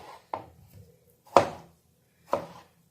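Tomatoes being roughly chopped with a knife for homemade ketchup, three or four separate close, sharp thuds on a board spaced about a second apart, with no talking.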